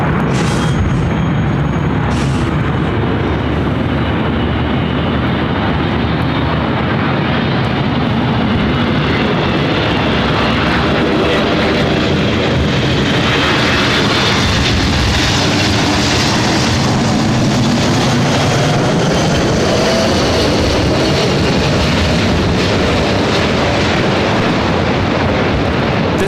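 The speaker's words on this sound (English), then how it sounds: "United Airlines 2403 coming in from Newark on the 777-200." A United Airlines Boeing 777-200 arriving from Newark and landing at LAX produces a loud, sustained, overpowering engine roar that swells and rumbles throughout at close range, with no talk.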